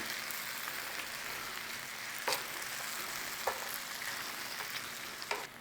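Olives are stirred into a simmering pepper sauce in a pan, making a soft continuous sizzle with a few brief scraping clicks of a spoon.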